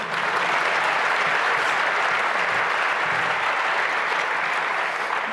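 Audience at a hacker conference talk breaks into dense, sustained applause, a loud even wash of many hands clapping with no break for the full stretch.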